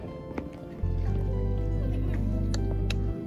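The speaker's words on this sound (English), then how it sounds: "Just going to get the water in." Water poured or sloshed in a painter's studio while working on a temple scene, a steady low splashing rush lasting a couple of seconds at close range, with faint clinks around it.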